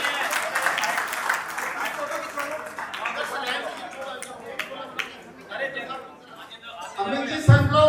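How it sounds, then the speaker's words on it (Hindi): Applause at a Jain religious ceremony, scattered clapping mixed with crowd chatter and someone talking over it, the clapping thinning out toward the end. "बहुत बहुत तालियां भाई, बहुत बहुत तालियां हम सबके लिए"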